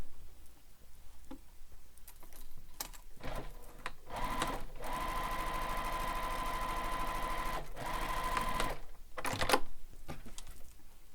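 Sewing machine back stitching while making a fabric wallet, a steady mechanical whir running several seconds in the middle, bracketed by short clicks and brief stops as the stitching reverses.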